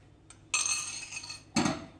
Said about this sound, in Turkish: Ve bunları karıştırıyorum şöyle